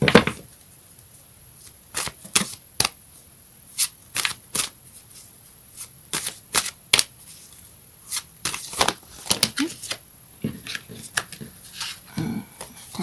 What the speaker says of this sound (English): Let's get some astrological cards now.